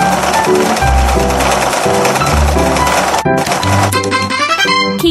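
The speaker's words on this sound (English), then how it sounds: "Let's sew the pieces together." Rapid mechanical stitching of a sewing machine joining fabric pieces in a children's sewing video game, loud and steady with game music underneath, pausing briefly near the middle before resuming.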